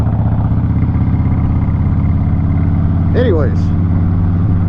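A 2008 Harley-Davidson Cross Bones motorcycle drones steadily at road speed, with constant loud engine and wind noise and someone briefly speaking over it.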